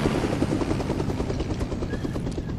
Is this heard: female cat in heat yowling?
no